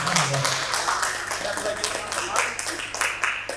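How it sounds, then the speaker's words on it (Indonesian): Audience applause for a guest speaker at a cultural forum in Aceh, dense sustained clapping from a crowd with a voice talking over it. "Boleh tepuk tangan sekali lagi buat narasumber"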